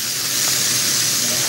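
Country fried steak sizzles in a pan, a steady, loud hiss of frying oil filling the short moment without pause.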